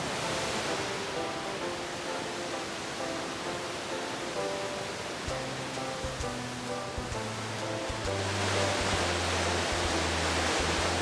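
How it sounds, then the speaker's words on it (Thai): Kuang Si, a limestone waterfall near Luang Prabang, Laos, roars as a steady, dense rush of falling water under faint background music. "น้ำตกกวางสีเนี่ยเป็นน้ำตกหินปูนนะครับน้ำที่ไหลลงมาให้เราได้เห็นกันตรงนี้"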